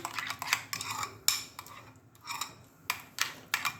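A utensil mixes a homemade rice and almond face cream with two added capsules in a small bowl, producing close, quiet clinks and scrapes in irregular bursts with short pauses and no voices.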